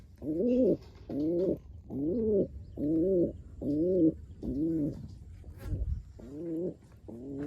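Pigeons coo inside a coop, sounding a steady series of about ten soft, rolling calls spaced roughly evenly, close by and fairly quiet against faint background noise.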